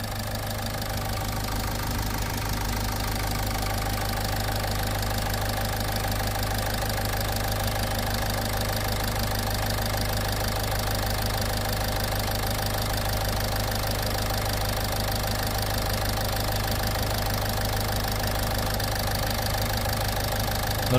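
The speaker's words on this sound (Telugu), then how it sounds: "బిఫోర్ ఇంజెక్షన్ కూడా ఒకసారి మీరు ఇంజన్ నాయిస్ అయితే నోటీస్ చేయండి" A Toyota Etios diesel car engine idling before decarbonization injection, a steady loud close clatter with an even low rumble and constant hum throughout, no talk.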